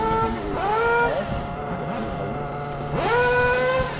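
A brand-new XRAY NT18 RC car's 0.5 cc nitro engine fires up on a starter stand, buzzing loudly with rising high-pitched revs that sweep up twice between a steady idle whine.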